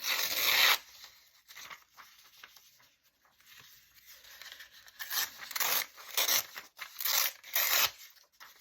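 Paper being torn in short ripping bursts while an envelope booklet is crafted, close and crisp, with loud tears at the start and a cluster of rips toward the end separated by quiet pauses.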